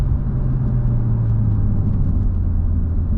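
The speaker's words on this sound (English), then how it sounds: "Downshift to third." A 2016 Porsche 911 Turbo drops down to third gear on the road, heard from inside the cabin as a loud, steady low engine rumble with a rising whir and little road noise, no talking.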